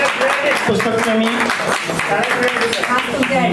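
An indoor audience at a book lovers' gathering claps loudly and continuously, with voices and laughter mixed into the applause.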